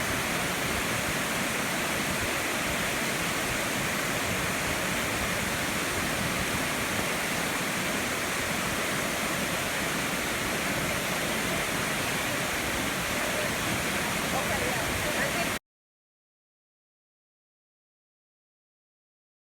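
Loud, steady roar of a waterfall, a dense wash of rushing water filling the whole clip before it cuts to silence.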